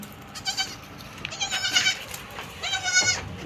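A young male goat kid bleats repeatedly in short, wavering cries, close by and fairly loud, with a brief pause between bursts.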